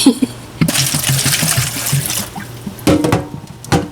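Water pours and trickles in short bursts while rice is rinsed for cooking, close and fairly loud, with splashy gushes separated by brief pauses and a few clinks.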